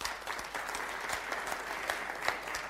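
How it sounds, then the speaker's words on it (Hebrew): Audience applause at an insurance agents' conference in Eilat, a dense steady patter of many clapping hands sustained throughout with a few sharper claps standing out. "תנו לה מחיאות כפיים"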